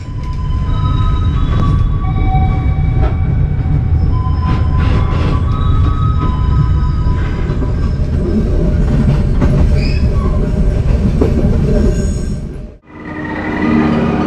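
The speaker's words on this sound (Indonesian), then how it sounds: "Kereta api Serayu malam tiba di stasiun Kiara Condong, Kota Bandung." The Serayu night passenger train rumbles into Kiaracondong station in Bandung, Indonesia, with a continuous loud roar, steady wheel clatter and high metallic squeals, then cuts off abruptly near the end.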